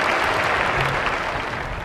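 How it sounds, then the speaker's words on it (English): A large audience at a university commencement breaks into dense, loud applause and cheering, a steady wash of clapping lasting the whole moment without a break. "Let's cheer Lucy."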